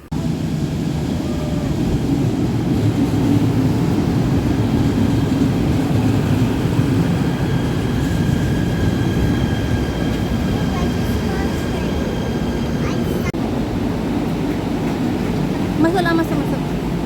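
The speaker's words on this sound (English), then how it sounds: "a big train's coming. Wait for the big train." A KTM commuter train pulls into a station, its steady, loud rumble filling the whole stretch with a continuous mechanical roar and occasional faint higher squeals.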